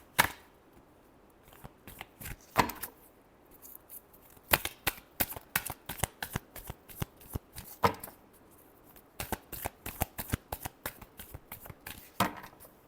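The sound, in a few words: shuffling tarot cards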